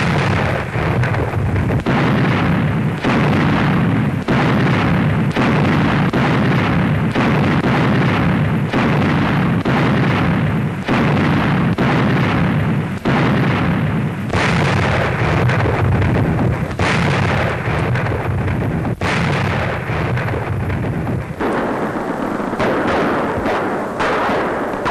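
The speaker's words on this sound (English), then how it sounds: "Russian artillerymen fire point blank at the last stronghold of Germany's doomed battalions" Russian artillery firing point blank at Stalingrad in 1943, a long series of loud heavy booms repeating every second or so in a dense, roaring wartime barrage that never lets up.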